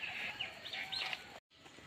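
A sparrow-like bird calling in forest during bird watching in Neora Valley, a short series of thin high chirps and trills, faint and fairly distant, stopping briefly before a quiet pause.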